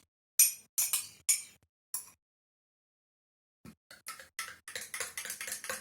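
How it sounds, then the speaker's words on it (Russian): A spoon stirs egg yolk and milk in a glass, ringing with sharp clinks: four spaced taps, a pause, then a quicker run of light chimes against the glass, close and quiet. "Размешиваем тщательно."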